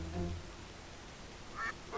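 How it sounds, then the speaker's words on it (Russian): A goose honking in the My Friend Peppa Pig video game, a couple of short nasal honks in quick succession near the end, fairly quiet over a low background hum. "Вы глухие, это гусь, вы чё?"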